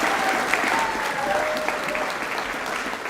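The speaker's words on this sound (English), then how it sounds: "Round of applause for this bunch of students." An audience at a high school co-curricular prize giving applauds a group of students, a steady, dense clapping that carries evenly to the end.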